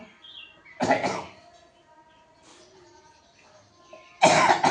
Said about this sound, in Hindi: थोड़ा क्षमा करिएगा क्योंकि थोड़ा खांसी आ रहा है